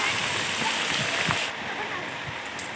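Rain that is starting to ease patters steadily onto surfaces, a continuous wash of drops with a slight drop in intensity partway through.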